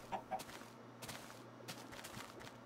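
Chickens in the Minecraft video game give a couple of soft clucks near the start, faint among scattered clicks and game noise.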